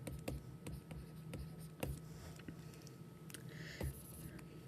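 Pen or marker scratches and taps as numbers are written out while balancing a chemical equation, a quiet series of short strokes over soft background hiss.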